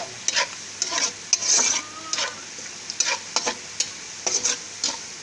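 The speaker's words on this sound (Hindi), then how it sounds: "फिर मैं इसमें लहसुन, अदरक, जायफल, जावित्री, दालचीनी सब कुछ डालती हूँ" Garlic, ginger, nutmeg, mace, cinnamon and cardamom frying in oil in a pot, close crackling sizzle broken by repeated sharp spoon scrapes and taps in an irregular rhythm, with no talk.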